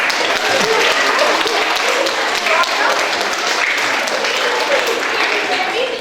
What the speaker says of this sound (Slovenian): Dajmo mu en aplavz.